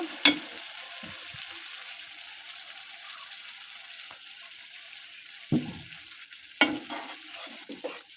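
Okra cooks in a pan with a little water added for a mustard curry. A low, quiet simmering sizzle is broken by a few brief clattering splashes and stirring knocks near the start and toward the end.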